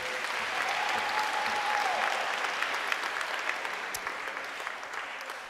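Congregation clapping in a church at a university chaplaincy service, sustained steady applause at moderate volume, close and even throughout, with a faint voice briefly audible under it.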